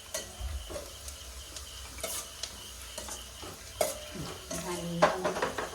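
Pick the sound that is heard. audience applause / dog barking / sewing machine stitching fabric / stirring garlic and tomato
stirring garlic and tomato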